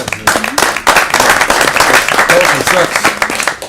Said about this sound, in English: Another hand clap for that.